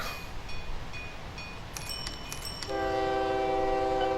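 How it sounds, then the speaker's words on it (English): A locomotive in the OpenTTD video game climbs a hill, its horn-like tones sounding in short bursts before a sustained tonal drone settles in, close and steady. "it's really chugging up this hill, but that's fine. It'll be alright. It's a pretty powerful locomotive"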